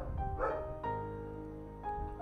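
Dogs in a Sims 4 house barking in short yips, a few separate barks over a steady background hum.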